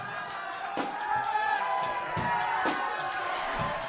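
A comedy show audience fills the room with steady cheering and crowd noise, a dense continuous roar with scattered whoops and shouts and no pause.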